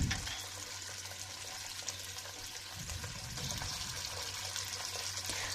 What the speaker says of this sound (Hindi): उसमें कुछ ऑयल डालें और साथ ही चिकन के पीसेस जिन्हें हमने मैदे में कोट किया था वो डाल दें और इसे फ्राई होने के लिए छोड़ दें